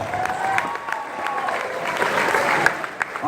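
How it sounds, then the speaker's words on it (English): Wedding guests at a reception clap after a speech, a steady patter of applause with scattered louder claps and a few murmured voices in the room. "How about a nice round of applause?"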